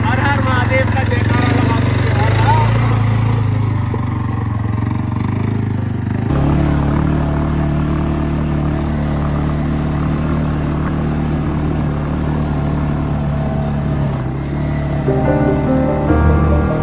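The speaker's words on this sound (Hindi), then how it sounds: "अभी हम लोग अपनी एटीवी बाइक से नीचे आए" An ATV bike rides down through snowy Solang Valley near Manali, its engine droning loud and close throughout with clattering, and the pitch shifts partway through. A person talks over it.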